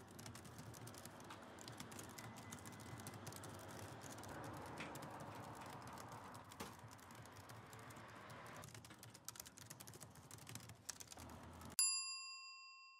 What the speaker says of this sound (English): So basically, I've got Ellie to actually do the typing, because me, I can't type at that level